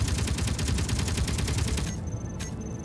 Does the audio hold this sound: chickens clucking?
no